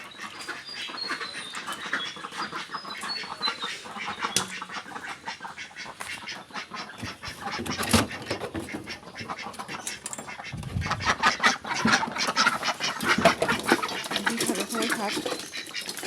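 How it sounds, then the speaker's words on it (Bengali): Ducks quack repeatedly while eating cooked rice, with near, busy bursts of calls and pecking over the whole stretch, and a voice speaking briefly. "এগুলো আমি এখন হাঁসদেরকে খেতে দিব।"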